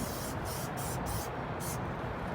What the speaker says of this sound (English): it's a good idea to go ahead and spray down the whole dashboard.